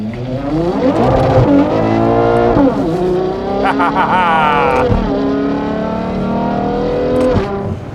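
A Novitec-tuned Ferrari Purosangue V12 pulls loud and near, its pitch climbing through gears with brief breaks between pulls, and a harsher rasp midway as the engine strains under acceleration.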